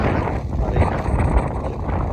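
Wind buffets a microphone outdoors in a sunny, hot spot in Tamil Nadu, a continuous loud low rumble with no pauses over the whole stretch.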